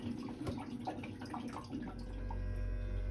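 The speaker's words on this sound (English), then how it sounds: "we got our bilge pump back here running. The water is running from the front to the back down in through the keel bilge there" A bilge pump runs aboard a 1984 Chris-Craft Catalina 381 boat, moving water from the front to the back through the keel bilge. Close trickling and splashing give way to a low, steady mechanical hum.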